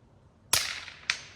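Two sharp rifle shots from a Bergara B-14R fitted with a Burris XTR III scope, fired at long range on a ranch; each crack is followed by a long, fading echo, with the second shot about half a second after the first.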